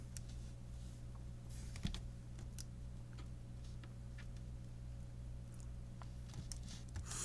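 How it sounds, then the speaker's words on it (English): Numbers being keyed into a calculator, heard as sparse, light, close button clicks spaced irregularly over a steady electrical hum. "And now I would type this into my calculator."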